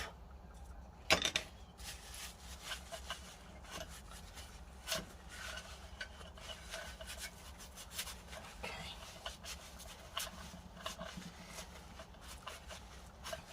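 Dirt and grime being scrubbed off the threaded axle of an electric unicycle motor, a quiet repeated rubbing and rasping with scattered small metallic clicks and taps, close and faint.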